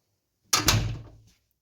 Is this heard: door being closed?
yes